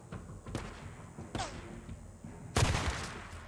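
Gunfire in the Days Gone video game as a shot is lined up for a zombie's head: a few sharp cracks early on, then a louder, denser burst of shots near the end over steady game ambience.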